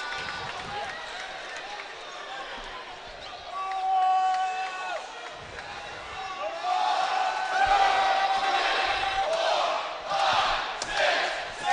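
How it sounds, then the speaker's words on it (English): At a college basketball championship game, the gym crowd chants numbers in unison while a player stands at the free throw line, rising and falling in loud bursts of shouting, whoops and cheers amid the noise of the arena. "Jack Terrell has the whole crowd counting out numbers as he thinks Miller's taking too long from the free throw line"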